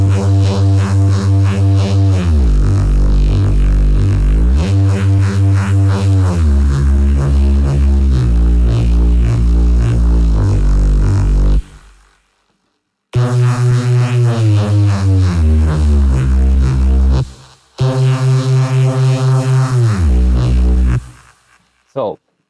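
A heavy, detuned Reese bass synth drones through a processing chain, playing sustained low notes that shift pitch. It comes in loud phrases broken by short silences, with a thick, buzzing, gritty tone.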